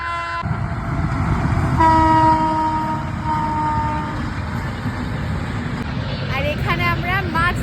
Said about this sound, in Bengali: ওই যে ওই দিক দিয়ে ট্রেন আসছে।